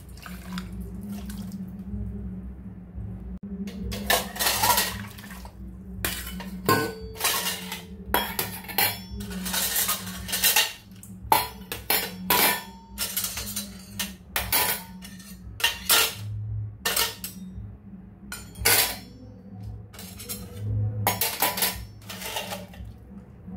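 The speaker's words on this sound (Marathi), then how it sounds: "ही आयदनां परत हितून व्हरून दवरता भाशेन आनी ही आतां धुवपाक जाय गरम उदक ओतून." Kitchen utensils in a Goan home being handled and rinsed with hot water: metal pots and dishes clank and scrape loudly in bursts while water pours and splashes in a sink between them.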